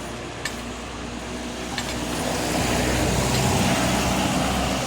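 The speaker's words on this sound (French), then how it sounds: "il y a beaucoup de circulation, je sais pas si on va m'entendre." Steady road traffic on a street, a continuous broadband rumble of cars and trucks passing nearby that swells slightly louder toward the end, with a couple of faint sharp clicks early on.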